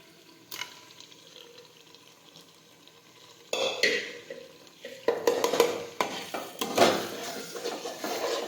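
Boiled mashed eggplant and potato are mixed into pav bhaji bhaji in a pan: quiet at first, then a spoon scrapes and stirs through the moist mash, with soft wet squelches and clanks close by.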